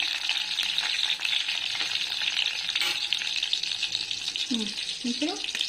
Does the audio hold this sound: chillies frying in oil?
yes